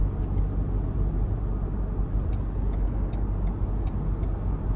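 A 2023 Ford Ranger XLT pickup with the 2.3-liter EcoBoost engine accelerating on the road, heard from inside as a steady low engine and road drone with light ticking and no speech.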